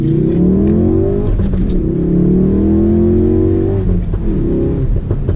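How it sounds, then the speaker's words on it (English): A 2018 Ford Focus RS four-cylinder engine revs loudly and steadily in track mode, its tone rising and falling close by, with a few sharp exhaust crackles and pops breaking through the drone. "We have a symphony of 4 cylinders, popping and banging, having a great party in the back."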